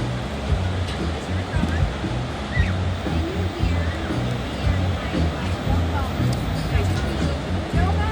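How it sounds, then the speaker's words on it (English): Breaking surf at a busy beach during a clam festival at Pismo Beach, California, forms a continuous wash of waves with a soft murmur of crowd voices underneath, steady throughout. "Just another chill day at the beach."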